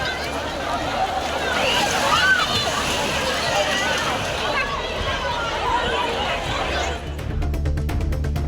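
Tourists bathe and splash in the Aliyar river, with steady sloshing water and a crowd's chatter blending into a continuous loud wash, then a sudden rougher rush near the end.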